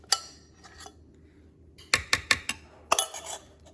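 Sweet pongal being stirred in a pot, a few sharp metallic clinks and scrapes of a spoon against the vessel in quick clusters, close and otherwise quiet.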